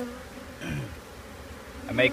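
Bees at a radio tower trap-out, a steady close insect buzz with a few louder drones passing near the ear.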